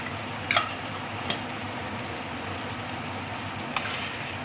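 Chilli egg fish frying in a pan while being stirred: a steady, fairly loud sizzle runs throughout, with occasional clicks of the utensil against the pan.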